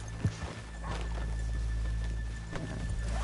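Horses walk in Red Dead Redemption 2, with a few scattered hoof clops close by over a low ambient hum and no talking.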